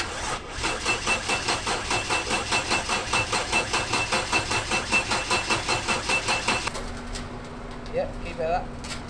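A Toyota JZX100 Mark II with a reported 600 horsepower runs with a loud, lumpy, rhythmic pulsing that continues steadily, then cuts out, leaving quieter background sounds.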